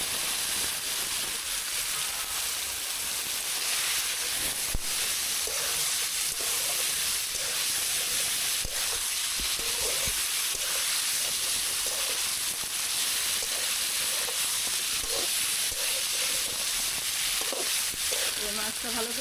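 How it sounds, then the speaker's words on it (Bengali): Koi fish fry in a hot pan of spice paste in a home kitchen, giving a steady, loud, close sizzle and hiss with occasional pops and stirring scrapes throughout. "কই মাছ দিয়ে কষানো।"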